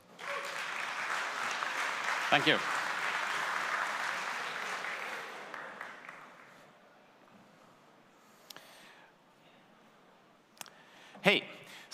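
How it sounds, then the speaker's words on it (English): An audience at a JavaScript developer conference applauds a speaker, dense clapping for about six seconds that fades to scattered claps, followed by a short spoken thanks and a few microphone bumps. "So a round of applause for Nicola."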